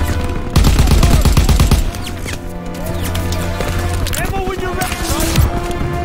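Rapid bursts of gunfire in Call of Duty WW2 combat, loud and dense at first, then continuing as a steady crackle of shots under excited shouting voices.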